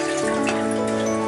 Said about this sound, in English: So we're gonna pour the rest of what's in my plate.